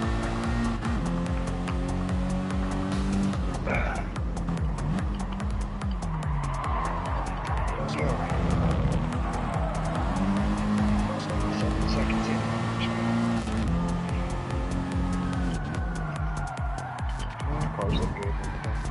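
Racing cars in the Gran Turismo video game produce continuous engine drones whose pitch rises and falls as they accelerate and shift. A dense, steady mix runs throughout at a fairly even loudness.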